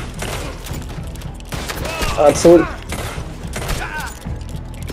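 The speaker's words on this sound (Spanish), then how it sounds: "Muere a tiros con los Lancaster de repetición." Lancaster repeater rifle fire in the online Western game Red Dead Online, several sharp shots and bursts mixed with in-game clatter and thuds, with a player talking briefly.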